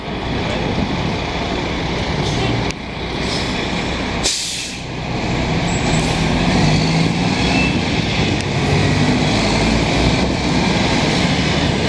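Mack truck on a downtown Montreal street, a loud, close diesel rumble with a sharp air-brake hiss partway through, over steady traffic noise.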